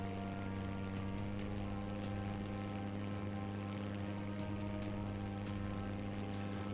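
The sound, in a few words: aircraft engine restarting in Plane Mechanic Sim video game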